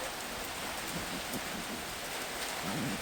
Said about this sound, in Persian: بارون میزنه